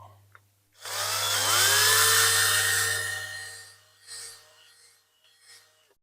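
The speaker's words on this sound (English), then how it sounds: "One thing the petroleum jelly does do, it gathers up all the metal that's coming away with the drill." A drill bores into the metal of a Matchbox F1 racer diecast car lubricated with petroleum jelly, a close high-pitched whine rising in pitch as it spins up, holding for about two seconds, then stopping with a short follow-up burst.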